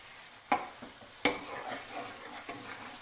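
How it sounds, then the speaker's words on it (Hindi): Spoon stirring semolina halwa in a pan, a few sharp clinks and scrapes against the metal over a soft steady sizzle, close and fairly quiet. "चम्मच जो है वो आपने रोकना नहीं है, बिल्कुल चलाते रहना है इसको।"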